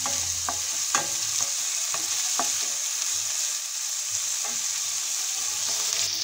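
Chopped onions fry in a pan with a constant close sizzle, broken by scattered light stirring scrapes and clinks.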